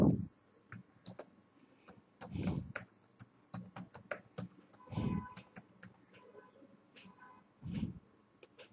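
Quick clicking keystrokes on a computer keyboard, irregular bursts of close, crisp taps, with a few heavier thumps mixed in.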